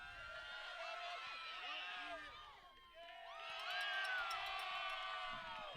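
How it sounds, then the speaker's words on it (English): Fans cheer at a high school softball quarterfinal between the Elsberry Lady Indians and East Carter Lady Redbirds, with many shrill overlapping shouts and whoops that dip briefly and then swell again. "East Carter crowd is really fired up right now."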